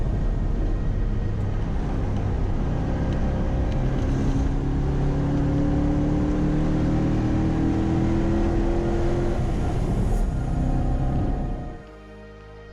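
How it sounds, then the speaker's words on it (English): Ford Mustang GT track car lapping Laguna Seca, a loud sustained engine roar with rising revs through the gears, heard close and continuous before cutting down sharply near the end. "I hope you guys enjoyed watching that Mustang do a few laps."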